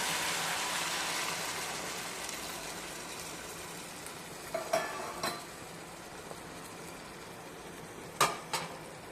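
Tamarind pulp goes into a hot frying pan, and a steady low sizzle runs throughout while a few sharp clinks of a spoon against the pan break through near the middle and end.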